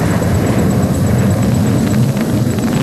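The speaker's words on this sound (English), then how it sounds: "Notice as the aircraft pulls up into the sky." A Sukhoi-30 fighter jet's engines roar steadily during an aerobatic air display, a loud, continuous broadband rumble with no talking.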